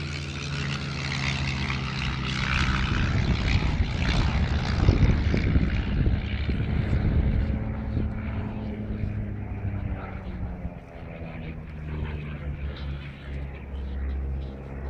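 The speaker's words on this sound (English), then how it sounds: "the Oster and the Cub, look very simple aircraft, which indeed they are" Propeller drone of Auster and Piper J3 Cub Grasshopper light aircraft flying a display at the Duxford autumn air show, a steady engine hum that swells as they pass and then slowly fades, heard under a commentator speaking.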